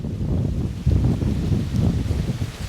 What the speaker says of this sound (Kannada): ಈಗ ದಬಾಶ್ ಗಾಳಿ ಬಿಟ್ಟದ, ಆ ಕಡೆ ಮಳೆ ಹೊಂಟದ.